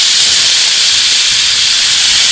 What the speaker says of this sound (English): The steam that's coming off them by ladling them in is actually going to help to cook them down